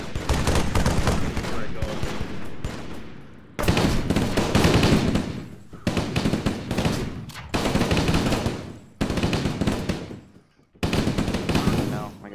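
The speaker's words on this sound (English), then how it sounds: "I think they're like shooting." Automatic gunfire in the military video game ARMA 3, heard as loud, dense sustained bursts broken by a few brief gaps. The volleys fill nearly the whole stretch.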